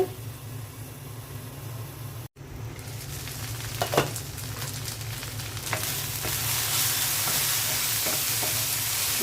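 Okra sizzles in a pan with salt and turmeric, a continuous frying hiss that grows louder over time, with occasional sharp stirring clicks and one brief dropout.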